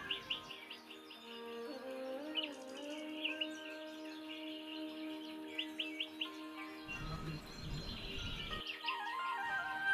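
Birds chirping and twittering continuously over a steady hum near Kukdeshwar temple in Junnar, several calls overlapping at moderate distance, with a brief burst of rustling noise near the end.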